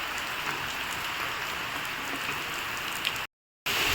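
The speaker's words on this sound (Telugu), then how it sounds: "వాన మాత్రం అసలు తగ్గుతలేదు, గాలి వాన రెండు." Heavy rain pours steadily with gusting wind during a thunderstorm, a dense, constant hiss with no letup until a brief dropout near the end.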